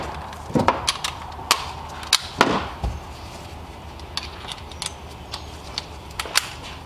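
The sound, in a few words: putting Phillips screws back into BMW X5 battery cover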